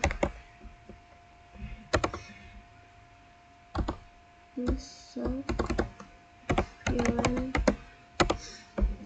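Typing on a computer keyboard while entering a switch configuration command, with scattered bursts of clicky keystrokes and pauses between them, a soft voice briefly audible.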